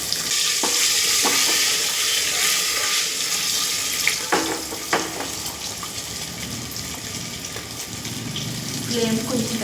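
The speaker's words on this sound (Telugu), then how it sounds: "ఎగ్స్ ఒక్కొక్కటి వేసుకుని బాగా రోస్ట్గా ఫ్రై చేసుకుంటున్నాను." Eggs frying in hot oil with a little turmeric, a steady close sizzle and crackle with occasional knocks of a spatula against the pan, a hissing wash running throughout.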